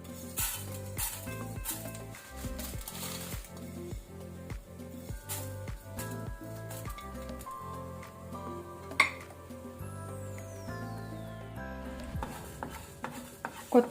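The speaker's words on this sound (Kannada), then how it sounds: "ನಂತರ ಕೊತ್ತಂಬರಿ ಬೀಜ ಕೊರಿಯಾಂಡರ್ ಸೀಡ್ಸ್ ಹುರಿಯೋಣ. ಫ್ಲೇಮ್ ಲೋ ಅಲ್ಲೇ ಇಟ್ಕೊಂಡು ಹುರಿತಾ ಇದ್ದೇನೆ." Coriander seeds roast in coconut oil over a low flame, a utensil repeatedly scraping and clinking against the pan in a steady stirring rhythm, with faint sizzling beneath and no voices.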